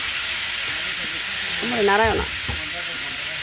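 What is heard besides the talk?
onions frying in hot oil for wedding roast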